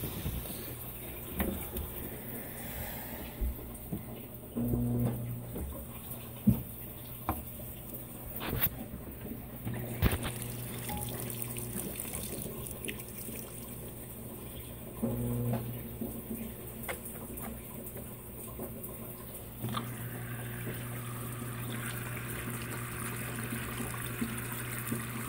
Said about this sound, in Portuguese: Esse enxágue adicional é aquela que ela joga um pouco de água e centrifuga as roupas